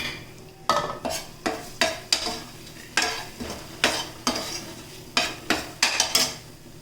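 A spatula stirs a curry frying in a pan, scraping in repeated sharp strokes at an irregular rhythm over a low steady sizzle, close and clear with no voices.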